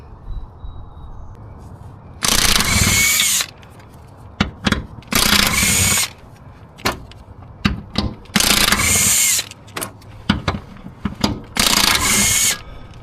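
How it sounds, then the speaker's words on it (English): A power tool backs out bolts from the metal plate holding the transmission on a Mercedes 4matic, firing loud mechanical rattling bursts of about a second each, separated by quiet gaps and small clicks of handling. "Now I'm ready to remove those 4 bolts on each side of this metal plate that hold in the transmission."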